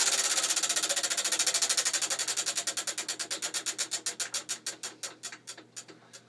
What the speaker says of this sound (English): Let's spin the wheel.